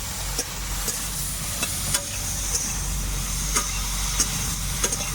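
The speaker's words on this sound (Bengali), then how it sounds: "এবার আমি বেগুনটাকে ভালোভাবে ভেজে নেব" Eggplant frying in a pan with a steady, continuous sizzle and low background hiss, broken by scattered faint clicks and stirring taps, no talking.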